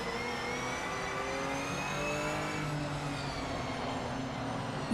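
A Porsche engine in a racing video game, revving and shifting pitch as the car accelerates and brakes, with a steady, smooth engine whine running for several seconds and no talking.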